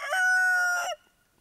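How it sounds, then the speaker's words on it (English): A farm rooster crows once, loud and close, a bright sustained call of about a second that ends abruptly and leaves near silence. "He's a very loud chicken."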